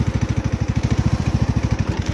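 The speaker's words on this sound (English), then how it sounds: "I'm driving my lawnmower at my friend's house." A riding lawnmower engine runs close by with a fast, even chugging pulse, loud and steady throughout with no talk.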